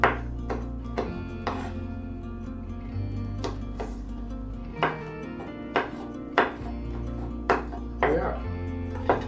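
A knife cuts a chili lengthwise on a board in a kitchen, giving a handful of sharp, close taps and thunks spread irregularly over a steady room hum.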